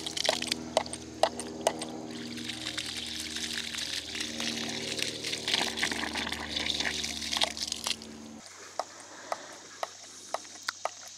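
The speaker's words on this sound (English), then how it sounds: "You can see the ram pump is now cycling on its own, sending a pressure wave up the delivery pipe." A water ram pump cycling on its own, its valve snapping shut in sharp rhythmic clacks while water gushes and pours steadily, then the flow drops away and isolated clicks continue over quieter trickling.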